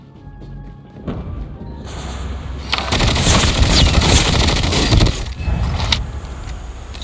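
Rapid automatic gunfire erupts in a COD Mobile battle royale match, a dense, loud burst lasting a few seconds that gives way to scattered shots and rattling over game noise.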